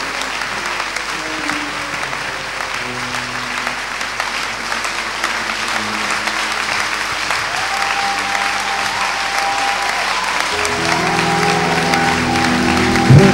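Steady applause from a church congregation welcoming a pastor, broad and continuous throughout, with sustained musical tones from keyboard or organ rising underneath and growing louder toward the end.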